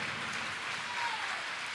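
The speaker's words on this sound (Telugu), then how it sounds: "చప్పట్లు కొట్టండి, గట్టిగా కొట్టండి." A church congregation at a Sunday service claps loudly, a steady, dense wash of applause that stays even from start to finish with no voices on top.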